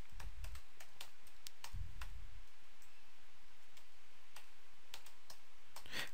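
Keys clatter on a computer keyboard while C# code is written in Visual Studio: quick, light, irregular clicks, fairly faint, with a low background hum and no talking.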